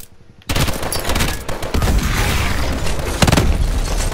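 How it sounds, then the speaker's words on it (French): Gunfire fills a firefight in the video game Call of Duty Advanced Warfare, a dense, loud barrage of overlapping shots and booms that starts abruptly and keeps going. "Évitez ces tirs."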